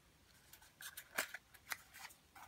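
Scissors snip a paper tab on a Christmas label-punch treat box, several quiet close cuts over a couple of seconds with no talk.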